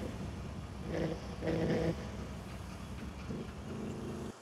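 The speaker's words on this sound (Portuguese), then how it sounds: "O som do motor desse carro." A Nissan GT-R engine in the video game Car Parking Multiplayer 2 rumbles faintly with a low growl, swelling in two short revs before idling lower, with no talking.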